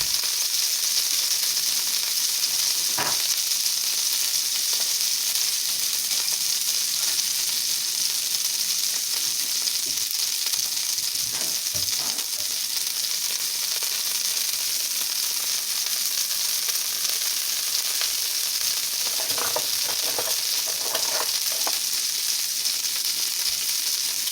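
Chicken breasts sear in a hot pan with a loud, steady sizzle and hiss, broken now and then by a few faint clicks and pops, with no voices.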